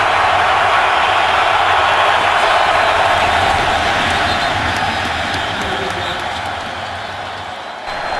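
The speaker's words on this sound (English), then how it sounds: "This crowd is loud, maybe not as loud as Seattle or Kansas City" A loud NFL stadium crowd at a 2013 Steelers at Packers game roars continuously, a dense sustained wall of cheering noise that gradually eases toward the end, with no clear talk over it.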